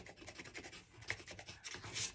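Raspy rubbing and scraping as dried embellishments and glitter glue are scraped off a painted art journal page, in short irregular strokes at close range with no talking.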